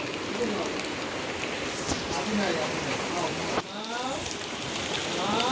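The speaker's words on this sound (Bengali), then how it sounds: "এখন বাইরে বৃষ্টি হচ্ছে" Rain pours down outside a grandparents' house, forming a constant broadband hiss of drops on surfaces, with a faint, brief patch of higher, voice-like sound near the end.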